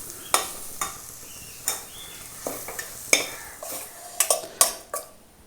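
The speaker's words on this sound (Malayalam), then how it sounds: "ഒന്ന് ഇളക്കി കൊടുക്കാം." A spoon scrapes and clinks around a pan of masala and onions being sautéd, giving irregular sharp stirring knocks over a quiet, faint sizzle, with no voices.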